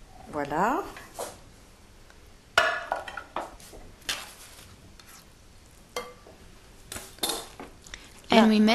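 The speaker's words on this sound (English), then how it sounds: "And we mix." Spinach tart ingredients are mixed in a bowl, with several bursts of scraping and clinking from the spoon against the bowl separated by pauses, close by, and a voice speaking briefly between them.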